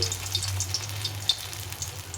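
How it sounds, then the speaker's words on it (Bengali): Pumpkin-leaf fritters made from ground lentil and rice batter frying in a little Fortune soybean oil give a steady close sizzle with scattered crackling pops throughout, and no voices. "এখন এটা একটা একটা করে এভাবে একটু কম তেলে ভাজতে হবে"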